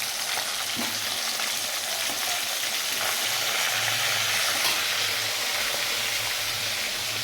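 Food frying fast in a hot pan on a home kitchen stove, giving a steady, loud, dense sizzle with faint stirring scrapes throughout, and no talking.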